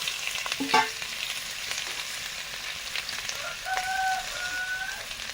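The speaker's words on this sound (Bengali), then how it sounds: "এবারে এই যে মোটা মোটা পুঁই ডাঁটাগুলো মশলা দিয়ে ভাজা হবে।" Steamed Malabar spinach stalks frying with spices and black cumin in a pan, a close, continuous crackling sizzle with a brief clatter of stirring near the start and a faint voice later.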